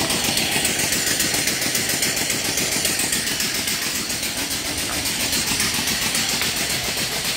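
A small steam engine driving an alternator runs at about 1200 RPM beside its boiler, giving a steady, close, rapidly pulsing mechanical chug that holds throughout without any talk.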